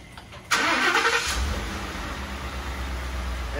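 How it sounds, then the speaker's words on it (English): A Ford F-150 XLT pickup truck engine cranks with a whirring starter, catches, and settles into a steady low idle rumble close by. "I'm gonna start the truck."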